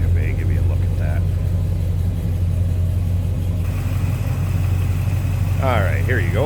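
A 1981 Chevrolet El Camino SS tribute with HEI ignition idles with a deep, steady rumble throughout, loud and close, with a voice briefly talking over it near the start and end.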